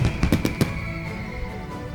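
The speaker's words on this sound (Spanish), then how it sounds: "Los fuegos artificiales iluminan el cielo, anunciando el comienzo de los festejos." Fireworks crackle and bang over a Greek island village festival, a rapid cluster of sharp loud bursts followed by a lingering rumble and hiss.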